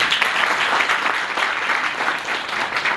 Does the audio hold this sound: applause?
yes